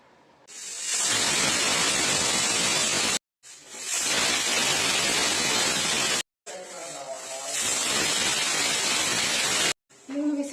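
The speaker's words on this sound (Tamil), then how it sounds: "இது வந்துட்டு மீடியம் ஃப்ளேம்ல 3 விசில் வச்சு எடுத்துக்கலாம்." A pressure cooker cooking tomato rice on medium flame lets out three long, loud hissing whistles of steam, each lasting a few seconds and separated by brief silences.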